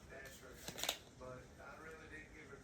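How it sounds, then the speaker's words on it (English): A deck of cards for a reading is given a short, close riffling shuffle, a brief papery burst under soft speech. "this is just pre-shuffling"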